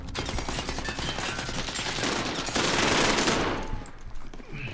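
Rapid automatic gunfire in a first-person shooter video game, dense overlapping bursts that swell louder midway before tapering, close and continuous with no talk over it.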